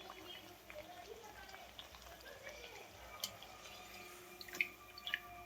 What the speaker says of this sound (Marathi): अशा तेलामध्ये तळून घ्यायचे आहेत आपल्याला घाऱ्या.